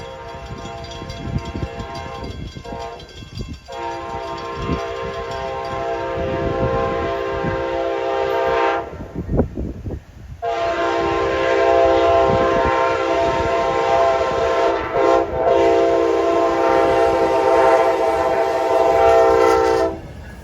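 Freight and passenger trains passing close by with a CSX and an Amtrak Operation Lifesaver heritage unit, loud sustained horn blasts sounding over the rumble and rattle of the rolling cars.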